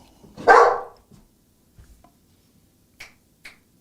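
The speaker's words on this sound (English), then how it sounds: "My dog's losing his mind." A dog gives one loud sharp bark close by, followed by a few faint clicks and two short high yips in otherwise quiet surroundings.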